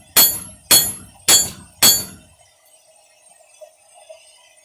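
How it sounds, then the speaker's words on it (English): Four sharp, ringing hammer blows, evenly spaced, strike hot steel over the hardy cutoff on the edge of an anvil, close and loud, followed by a faint quiet ring-out. "Performing basically what counts as a hardy cutoff on the edge of the anvil here."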